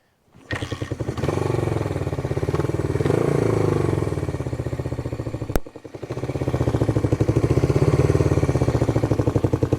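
A vintage Honda CB360 motorcycle engine fires up and runs steadily with a loud, close, rapid putter. It briefly cuts out and drops near the middle, then catches again and keeps running strongly.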